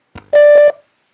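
A short, steady electronic Google Voice beep tone sounds once, clean and loud, preceded by a faint click and followed by silence.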